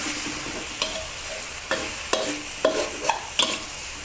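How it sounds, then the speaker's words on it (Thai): Glass noodles with minced pork and basil leaves stir-fried in a pan over high heat, giving a steady sizzle broken by several sharp scrapes and tosses of the spatula, close and fairly loud, with no talking. "คั่วอีก 2-3 ทีให้โหระพาสุกค่ะ"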